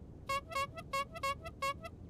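A car horn in a taxi driving video game sounds in a series of short honks, about seven beeps in an uneven rhythm, clear and fairly loud over a faint background.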